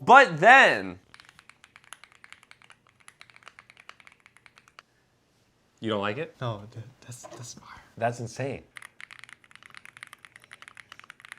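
Rapid, light clicking of mechanical keyboard keys rattles on for several seconds between stretches of close conversation.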